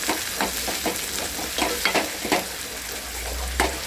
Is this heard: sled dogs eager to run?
no